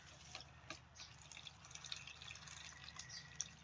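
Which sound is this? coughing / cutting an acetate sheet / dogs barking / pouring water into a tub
pouring water into a tub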